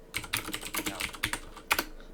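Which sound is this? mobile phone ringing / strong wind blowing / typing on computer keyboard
typing on computer keyboard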